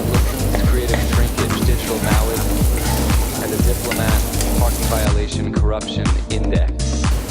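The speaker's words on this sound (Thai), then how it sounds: "เริ่มจากผัดกระเทียมลงไปก่อน นะ พอกระเทียมมีกลิ่นแล้วก็ตามด้วยหอมแดงเลยครับ" Garlic and shallots fry in olive oil in a hot pan, giving a loud, continuous close sizzle with crackling spatters and occasional stirring scrapes, while someone talks over it.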